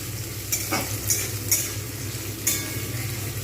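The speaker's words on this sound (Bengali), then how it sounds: "এখন বেশ কিছুক্ষণ আমি এইভাবে ভাজতে থাকবো পুরোটা" Sliced onions frying in a kadai for birista, a close, steady sizzle with a few sharp spatula scrapes scattered through it.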